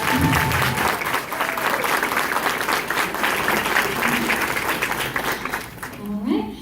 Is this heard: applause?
yes